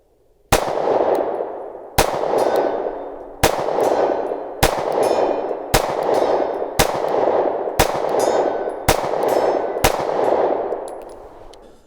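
Eight sharp pistol shots from a Sig Sauer P365 with a 3-inch barrel, fired at steel targets 100 yards away. They come at an even pace about a second and a half apart, and each crack rings out and decays before the next.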